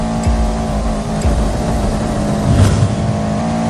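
A race car with an anti-lag system in the Roblox game Midnight Racing, its engine droning loud and steady with sharp pops and a surge of revving near the end.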